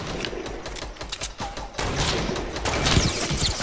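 Rapid bursts of Fortnite gunfire crackle in a factory area, dense clusters of sharp shots that thicken toward the end, with no clear talk over them.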